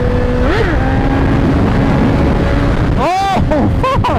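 A 2017 Honda CBR1000RR sportbike pulling hard in fourth gear, its engine note rising in sweeping climbs, loud and close over heavy wind rush, with a rider's voice heard briefly.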